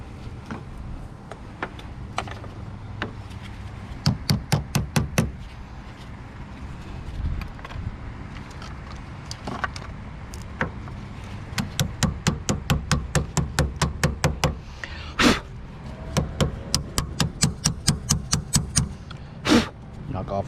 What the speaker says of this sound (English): Knock off as much of that corrosion as possible.